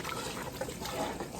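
Jarred pasta sauce being emptied into a pot of cooking spaghetti, a steady wet pouring and gurgling that runs close and moderately loud for the whole moment, with no talking over it.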